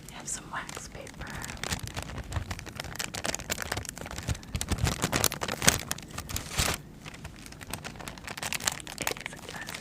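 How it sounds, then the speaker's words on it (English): Wax paper crinkles and rustles close up in an ASMR setting, a soft, steady crackling texture running through the whole stretch with whispering over it. "I have some wax paper."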